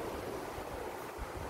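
Wind gusting outdoors on a cold day beside an outdoor swimming pool, a steady broadband rush with low buffeting rumbles, loud and continuous with no voices.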